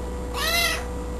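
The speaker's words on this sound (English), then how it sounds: "Meow! You talking?" A female cat gives a single clear meow lasting about half a second, close and moderately loud, rising then falling in pitch over a quiet indoor background.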